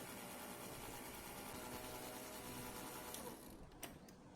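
Electric mixer running on low speed as eggs are added to buttercake batter, a steady close mechanical whir that continues throughout and eases slightly near the end.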